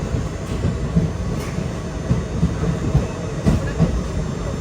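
The Yesvantpur–Kannur Express rolls into Kannur railway station with a steady low rumble and periodic wheel clacks over rail joints, loud and close, with no voices.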